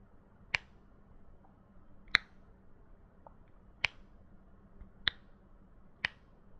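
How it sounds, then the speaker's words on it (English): A spring-loaded sliding USB 3.0 pen drive snaps in and out, giving five crisp, isolated clicks spaced about a second apart, close and quiet, against near silence with no talking. "when you slide in and out, it gives a nice click noise"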